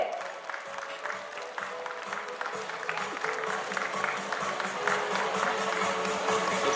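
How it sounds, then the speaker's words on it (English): Audience applause at an award ceremony honoring a top-ranked student, a steady crowd of clapping that builds slightly over several seconds, with a faint tonal background and some voices mixed in. "A loud applause for Bhavya Gupta"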